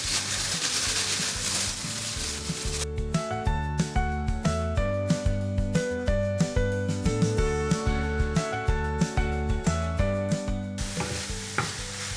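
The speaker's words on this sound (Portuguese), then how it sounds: "Os outros cogumelos que sobraram, eu vou colocar nessa frigideira pra dar uma fritadinha neles." Leftover mushrooms fry in a frying pan with a soft, steady sizzle; a rhythmic melodic music track plays over the hiss for most of the stretch, largely covering it.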